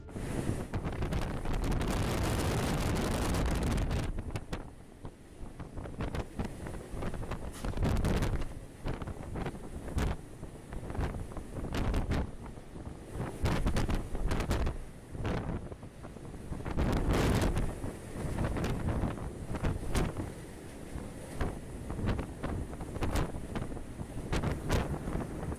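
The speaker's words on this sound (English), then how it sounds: "winds were traveling at 89 miles per hour" Strong wind buffets the microphone with a loud, steady roar while heavy waves crash and surge around a ship at sea in winds of 89 miles per hour, the gusts rising and falling throughout with no talking.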